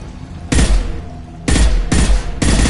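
Loud Mass Effect 2 Legendary Edition gunfire erupts in sustained bursts, several heavy volleys of shooting separated by brief lulls, close and dominant throughout.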